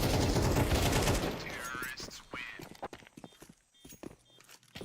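Rapid bursts of gunfire from eco-round kills in a Counter-Strike match, loud and dense at first, then sparser single shots and clatter, with a voice talking over part of it.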